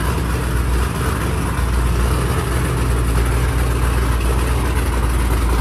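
An Infiniti Q60 drag car with upgraded turbos runs in a loud, steady, rumbling idle, the engine close and continuous throughout, with no voices.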